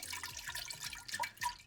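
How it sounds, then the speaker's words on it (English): Water with brown sugar is swirled in a container to dissolve it for homemade pineapple tepache, a faint sloshing and dripping with small liquid plinks, quiet and close. "I'm basically just swirling the brown sugar around and trying to get it as dissolved as possible"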